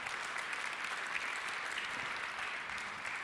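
Steady, dense applause from the audience at the Eurovision Song Contest allocation draw, even and continuous at moderate level without any talk over it.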